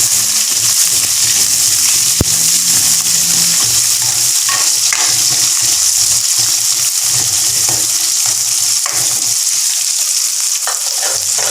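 Onion, green chili and garlic hit a hot pan together with a loud, dense sizzle that stays constant, with occasional stirring scrapes and a sharp clink near the start.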